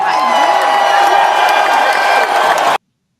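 A studio audience cheers and claps, a loud, dense wash of applause that holds steady for nearly three seconds, then cuts off abruptly.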